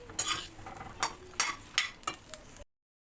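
A utensil scrapes and stirs eggplant in a pan over a soft low-flame sizzle, several quick strokes close up before it stops.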